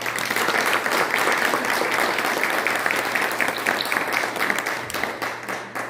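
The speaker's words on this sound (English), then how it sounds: "So big round of applause for all of you all" Applause from an audience gathered for a Laredo municipal court week proclamation, a full, steady round of clapping that continues for several seconds before gradually tapering off, with a low hum underneath.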